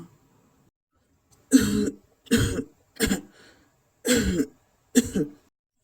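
Five harsh coughs, spaced about a second apart after a quiet pause, close and fairly loud with nothing else around them.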